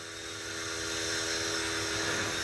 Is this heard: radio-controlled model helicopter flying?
yes